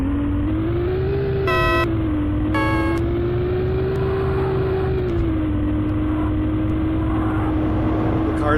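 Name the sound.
car horn honking in Need for Speed video game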